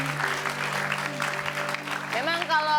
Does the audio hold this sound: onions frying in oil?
no